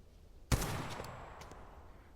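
A single sharp SVD sniper rifle shot cracks out in the Tactical Assault VR game, loud and close, followed by a long fading reverberant tail.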